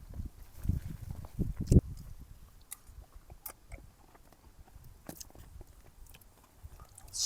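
Close, quiet chewing of a cooked meal outdoors at a camp in a public park, with soft wet bites and crunches clustered early, then sparser mouth sounds over low background.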